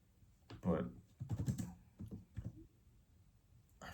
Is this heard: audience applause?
no